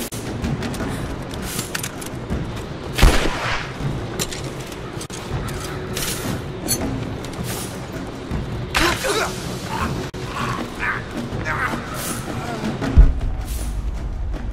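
Gunfire in a Tomb Raider video game, with repeated shots and sharp blasts over a busy, layered battle din, including two strong bangs, while voices talk over the action.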